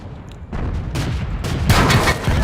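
Tank cannon fire in the video game World of Tanks, with a shot striking the player's tank: several loud booming blasts and rumbling impacts in close succession, dense and forceful, no talking.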